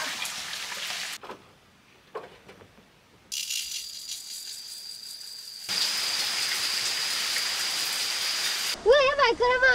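Rain falls on a parked car during an overnight car-camp at an unmanned campsite, heard from inside as a steady hiss that stops and starts in bursts. A voice speaks briefly near the end.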